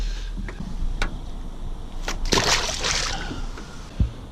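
A released catfish drops back into the water from a boat at night, giving a brief burst of sloshing and splashing mid-way, with a few smaller drips and knocks before and after.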